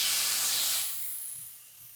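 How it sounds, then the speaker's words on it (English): Jerk-marinated pork hitting a hot grill pan, a loud, bright sizzle close up that starts strong and gradually settles into a quieter hiss. "Nice sizzle, because I know I'm gonna get a nice sear"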